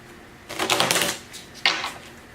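Tarot cards are shuffled in two quick riffling bursts, a longer one followed by a short one, close up with no talking.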